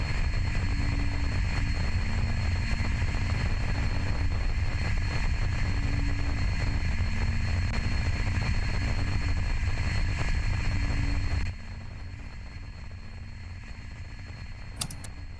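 An Electron rocket's Rutherford second-stage engine burns, heard as a steady, dense roar with a constant hum that drops to a quieter level near the end, with no talk over it.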